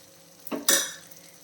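Dosa batter poured onto a hot greased pan for bun dosa, two quick sharp sizzling bursts that flare up loudly and then fade into a soft hiss.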